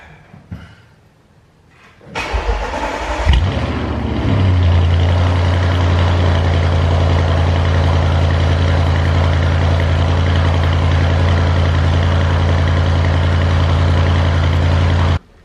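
An Audi RS7 engine cranks and fires up from a cold start after a brief quiet, revving loudly before settling into a steady, deep idle that continues.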